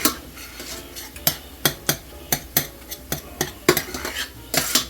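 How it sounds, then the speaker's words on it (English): A spoon clanks and scrapes around a bowl, mixing a seasoned meat filling for stuffed bell peppers, giving sharp metallic knocks in an uneven rhythm, close and loud with no talking. "So we're just going to mix this in."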